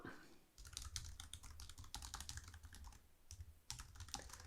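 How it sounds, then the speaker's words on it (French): Keys clatter on a computer keyboard as a passphrase is typed at a login screen, a fast, close run of light clicks with a brief pause before a final burst. "Je tape ma phrase de passe."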